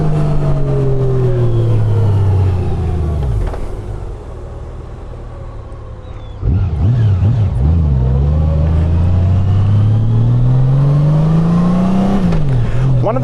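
2025 Honda Goldwing motorcycle riding and accelerating, a loud, steady engine drone that drops as it shifts and then climbs again, with wind rumble throughout.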